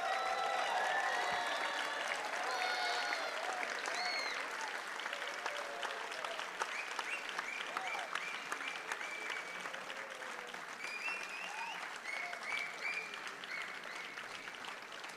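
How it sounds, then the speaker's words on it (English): Sustained applause from a large audience giving a standing ovation at the close of a Chenda Melam arangettam, steady dense clapping filling the whole stretch with a faint crowd murmur. "can you please raise and give a final standing ovation before you break for dinner? A round lot of applause"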